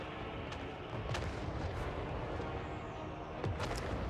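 Cannon fire in a Total War: Warhammer 3 battle, with repeated booming shots rising out of a dense, continuous din of battlefield noise. Several sharper blasts stand out near the start and again toward the end.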